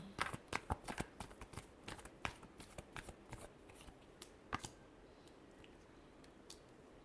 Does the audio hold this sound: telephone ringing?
no